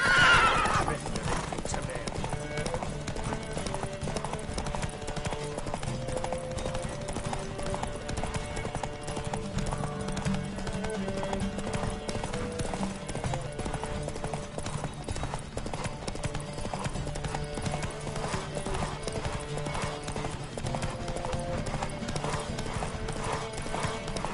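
Hooves clatter at a quick, steady gallop with occasional whinnies during a horse race in the video game The Witcher 3. Voices call out over it throughout.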